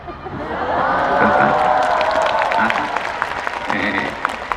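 A large audience claps steadily throughout, with a loud, full wash of applause and a few whoops and laughs mixed in, and a voice talking over it.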